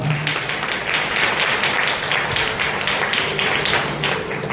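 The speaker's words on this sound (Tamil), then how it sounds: "நல்ல கரங்களை தட்டுவோமா?" Church audience applauding during a Christmas sermon: dense, steady clapping from many hands that fills the whole stretch at a fairly loud, even level.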